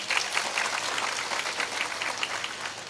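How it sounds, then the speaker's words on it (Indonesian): Audience applause for Pak Tinggi at an Islamic sermon gathering: a dense, steady wash of many hands clapping together, sustained at an even loudness throughout with no voices over it. "Tepuk tangan untuk Pak Tinggi."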